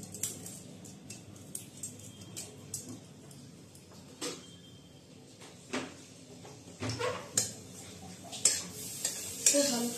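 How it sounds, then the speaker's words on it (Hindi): Dried red chillies frying in hot refined oil in a pan, a soft sizzle under frequent clinks and scrapes of a metal spoon on the pan, the stirring growing louder and busier toward the end. "हल्का सा फ्राई होने देंगे।"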